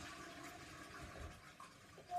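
A household toilet flushes nearby, a steady rush of water lasting the whole moment and swelling slightly louder at the end, with no voices over it.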